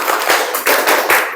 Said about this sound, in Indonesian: Tepuk matematika.